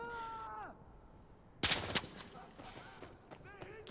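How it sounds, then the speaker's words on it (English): Machine gun fire in a video game, one short loud burst in the middle, with quieter game sounds before and after. "There's a guy posted with an MG."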